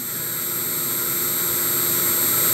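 Small electric motor running at steady speed on a bench, its speed being measured with a photoelectric sensor; a constant whirring drone with high-pitched tonal whine, even and unchanging throughout.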